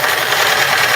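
A sewing machine stitches a fabric heart pillow in one continuous, fast mechanical whir lasting about a second.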